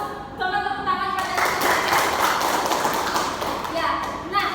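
Children clap in a classroom during a microteaching lesson, a burst of dense, steady applause in the middle with voices talking over it before and after.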